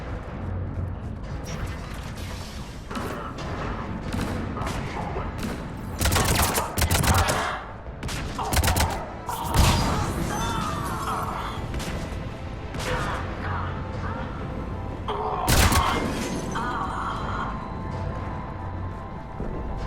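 Cannons fire and explosions crash in the video game Mass Effect 3, with heavy booms and sharp blasts recurring amid constant battle noise and mechanical clatter, and brief voices heard.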